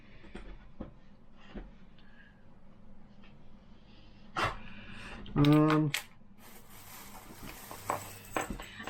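A dog gives a short burst of barks at an outdoor car boot sale, fairly close amid quiet background bustle and faint chatter, with a few scattered knocks before and after.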